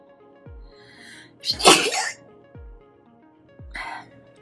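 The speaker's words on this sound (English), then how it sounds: "this makes you want to sneeze" A single loud sneeze bursts out after a short intake of breath, followed by a smaller breathy sound, close to the microphone in a quiet room.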